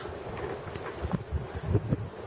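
Strong wind gusts in a cold winter snow storm, rumbling and buffeting the microphone in uneven bursts, with no talking.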